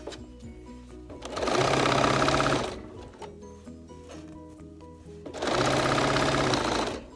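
A sewing machine stitches fabric for a wash bag in two loud, fast whirring bursts of about a second each, separated by quieter handling noise and a low hum.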